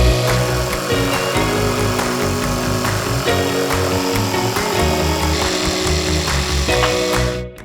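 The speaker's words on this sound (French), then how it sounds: "Des deux côtés, je fais un angle avec la profondeur et je le scie avec la scie sauteuse." A jigsaw cuts a notch into a wooden worktop for a garden table. The motor drones loudly and the blade chatters rapidly, continuous for several seconds before trailing off at the end.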